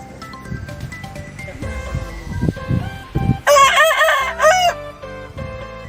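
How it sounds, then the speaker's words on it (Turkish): A rooster crows loudly once, close by, while chickens cluck and rustle in the background. "Tavuklar da Semih gördüler şaşırdılar tabi"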